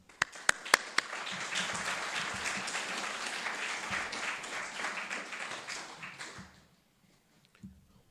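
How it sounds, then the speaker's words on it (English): Warm audience applause welcoming speaker Jeff Capaccio at the Italian Cultural Institute in Los Angeles, opening with a few sharp claps, then dense sustained clapping that dies out near the end, followed by quiet. "let me welcome once again Jeff Capaccio with a very warm round of applause"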